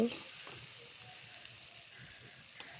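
Potatoes frying in sauce in a pan give a faint, steady sizzling hiss, with soft stirring scrapes now and then and no voices.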